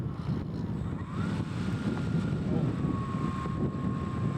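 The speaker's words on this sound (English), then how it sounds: "Suddenly the wind picks up." Wind buffeting a microphone at an outdoor field during the maiden flight of a Hobbyking Top RC FW190 model warplane, a steady broadband rush with a faint engine whine rising and falling in the background.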